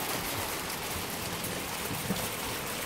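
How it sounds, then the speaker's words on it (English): Steady rain falls at Machu Picchu in Peru, a dense, even hiss of drops on surfaces that continues without a break and is close and moderately loud. "Well, it's raining right now."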